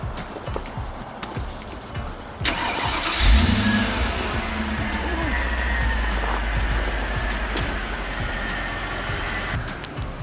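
A 2005 Mercedes G500 G-Wagon, damaged in the rear, starts up and is driven, its engine catching with a surge then settling into a steady rumbling drone heard from inside, with light clicks and rustles beforehand.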